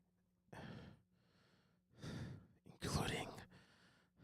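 Close breathing picked up by a Rodecaster-connected microphone at a live stream, with three separate audible breaths or sighs, one of them sharp and gasp-like, set against a quiet room.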